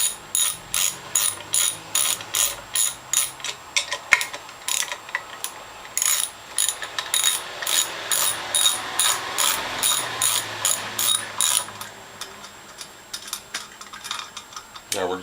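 A hand ratchet clicks steadily in repeated strokes, backing out bolts to remove the pump from a Norwalk juicer; loud, close, rhythmic bursts of ratcheting with no one speaking.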